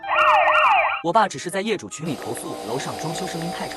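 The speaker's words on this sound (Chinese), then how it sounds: "取而代之的是警笛和救护车的声音" Police and ambulance sirens in a residential neighbourhood, a close wailing siren sweeping up and down, then voices talking over it while the siren tones keep going underneath.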